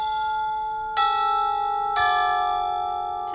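Tubular chimes in a music class are struck with the pedal released, two clear metallic strikes about a second apart whose bright tones ring on and sustain between hits, with no talking.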